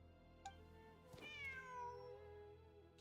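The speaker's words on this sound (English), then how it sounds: "The cat!" A cat meows in the video game Genshin Impact, one drawn-out, clear meow with a falling tone, close and alone, after a brief soft click.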